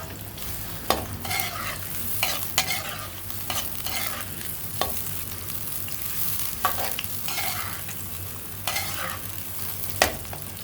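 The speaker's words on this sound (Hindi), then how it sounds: "अब मैं उसमें डालूंगी ये प्याज।" Chopped onions frying in hot oil in a kadai, with a steady sizzle and repeated stirring scrapes at close range, alone without talk.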